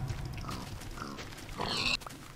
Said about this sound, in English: Oh, it's piggies! The pigs spawned.